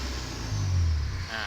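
A car engine with an electronic throttle idles steadily at a held 2,000 rpm, a low continuous hum with slight swelling in the middle, close and alone.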